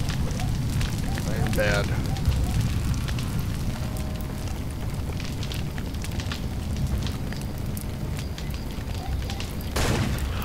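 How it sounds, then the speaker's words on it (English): Fire spreads everywhere in the video game Far Cry 2, producing a continuous crackling roar with scattered bursts like gunfire and distant booms, while someone talks over it. "The whole fucking world is on fire."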